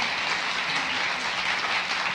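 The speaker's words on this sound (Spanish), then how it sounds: "démosle un fuerte aplauso" Sustained, dense applause from a conference audience at a children's and young adult literature seminar, steady and even throughout with no speech over it.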